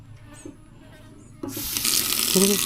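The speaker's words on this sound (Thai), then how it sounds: "ตรงนี้จะเป็นจุดล้างจาน ดูน้ำหน่อย ได้เยอะ" Water gushes from a kitchen sink tap, starting abruptly after a couple of quiet seconds and running steadily, with a few clinks at the start.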